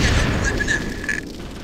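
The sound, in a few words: grenade explosion and gunfire in Full Spectrum Warrior video game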